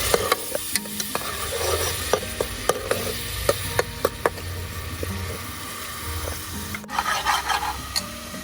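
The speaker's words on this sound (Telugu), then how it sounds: "ఈ ఆనియన్ పేస్ట్ ఫ్రై కావాలన్నమాట కొద్దిగా మంచిగా." Onion paste fries in oil in a pan for blue crab curry, a low steady sizzle under repeated sharp scraping clicks from a stirring spoon, ending in a busier burst of scraping.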